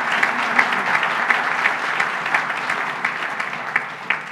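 Audience at a 2023 New Year's greetings ceremony applauds the team in a dense, sustained wash of clapping, steady throughout with no voices over it.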